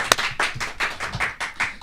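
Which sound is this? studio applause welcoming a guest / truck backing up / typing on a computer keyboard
studio applause welcoming a guest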